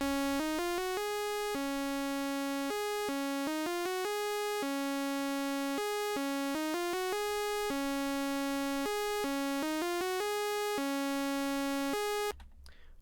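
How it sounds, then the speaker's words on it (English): A bright, buzzy default Serum synth lead patch plays a melody alone, notes stepping up and down in a steady rhythm of short and held tones, ending abruptly. "I then added a lead, again from Serum, which is just a normal synth lead"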